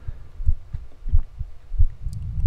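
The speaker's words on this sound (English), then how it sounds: "There's a heartbeat in the background." Slow, steady heartbeat thumps, deep and close, pulsing in a regular double-beat rhythm beneath a faint hum in a horror short film, with no talking.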